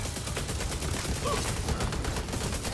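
Sustained rapid gunfire in The Division 2, a dense continuous stream of loud shots with no pauses and no talking.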